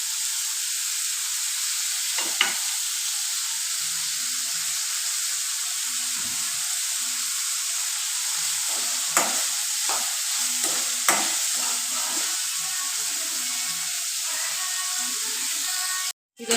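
Onions frying in a pan on the stove for an okra stir-fry, with a steady hiss of sizzling oil throughout and occasional scrapes and taps from stirring, heard close and without speech.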